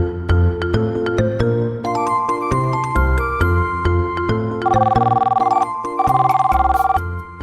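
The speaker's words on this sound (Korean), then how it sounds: "오늘 대화에서는 이재훈 씨가 식당에 전화를 합니다." A telephone rings with a melodic electronic ringtone, bright repeating notes played loud and close with no voices.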